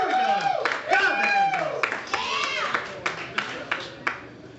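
Scattered audience claps follow a comedian's set. The clapping thins out into a few distinct, sharp claps while voices talk prominently over them.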